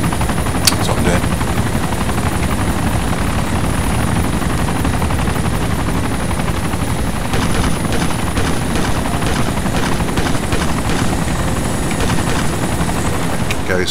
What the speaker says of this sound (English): so how much is this helicopter going to go for?